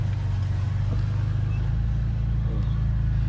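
A car reverses slowly up a driveway, a steady low engine drone close by with a faint voice briefly over it.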